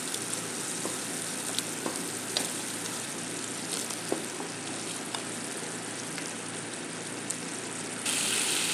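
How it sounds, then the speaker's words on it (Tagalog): Tomato paste fries and is stirred in a pan with vegetables, giving a steady, close sizzle with occasional scraping clicks and no talking. "Mag-add tayo ng tomato paste guys. I-mix lang natin."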